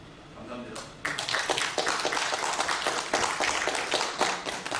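Audience at a business seminar on entering ASEAN markets applauding after a presentation, a sudden swell of many hands clapping that stays dense and steady, following a brief stretch of quieter room noise.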